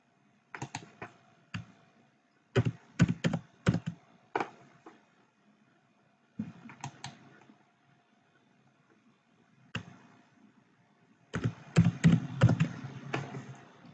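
Computer keyboard typing of HTML code, with bursts of close, crisp key clicks separated by short pauses, and a denser flurry of keystrokes near the end.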